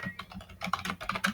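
Typing on a computer keyboard, a quick run of close, soft key clicks in an uneven rhythm, alone without speech.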